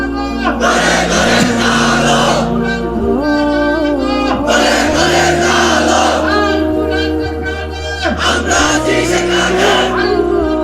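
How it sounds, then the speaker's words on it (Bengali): A large crowd at a religious sermon gathering in Bangladesh chants slogans and takbir together, loud rhythmic massed voices rising and falling in repeated bursts throughout. "তোমরাই স্লোগান দাও, তোমরাই তাকবীর বলো"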